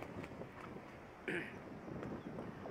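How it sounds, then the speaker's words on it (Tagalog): Steady wind buffeting a microphone outdoors, a low rumbling rush with a brief gusty flare midway, fairly faint overall. "malakas yung hangin"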